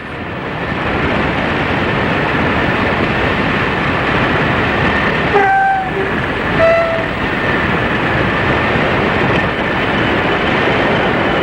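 A British Rail Class 40 diesel locomotive, D200, passes outbound at Eastriggs hauling a train between Carlisle and Ayr, a loud sustained engine roar with a short two-tone horn blast in the middle.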